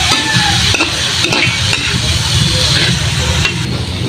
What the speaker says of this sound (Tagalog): Karawin natin siya para ma-absorb ang kaniyang mga sangkap